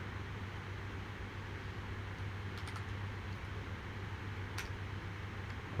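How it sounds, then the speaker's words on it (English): Slow typing on a computer keyboard, sparse soft key clicks spaced irregularly over a low steady hum, quiet and close, with no voices. "I am typing very slowly to make sure I type everything correctly."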